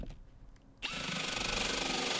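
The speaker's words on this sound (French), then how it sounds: "nous avons percé un petit trou pour connaître l'emplacement exact de notre trou." A short pause, then a power drill starts and whines steadily for about a second and a half, close and loud, boring a small pilot hole in a roof.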